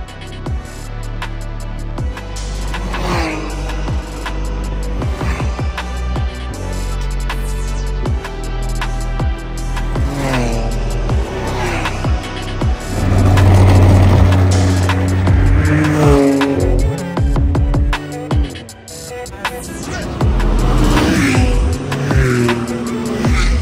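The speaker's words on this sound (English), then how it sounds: "we got ultra close to these cars coming around the track at, I don't know, 110, 120 miles an hour, right on the limit" Race cars in the Nurburgring 24 hour race scream past close by one after another, engines rising and falling in pitch with gear changes and occasional tire squeal, loud and without talk.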